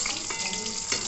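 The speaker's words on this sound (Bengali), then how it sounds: "লাল করে ভেজে নিতে হবে।" Chital fish muitha dumplings frying in hot oil, a dense, steady close sizzle with faint scraping stir sounds throughout.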